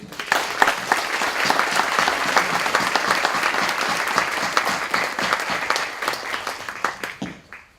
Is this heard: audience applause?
yes